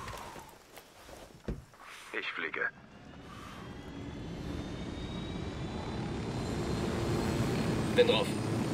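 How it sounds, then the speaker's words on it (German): A helicopter in the video game Ghost Recon Wildlands drones at a distance, rising gradually into a steady engine wash after a few short clanks and footstep-like knocks early on. "Wer parkt denn einen Hubschrauber unterm Strommast?"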